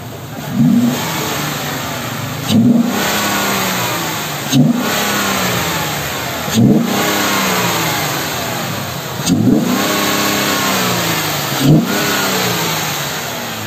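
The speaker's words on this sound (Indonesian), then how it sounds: "bedanya suara intake yang aslinya sama sudah kita ganti dengan AV intake ini" A Jeep Wrangler JK engine fitted with an aftermarket intake and performance coil is revved repeatedly in short, loud bursts at a steady rhythm, each rising and falling back to a throaty idle.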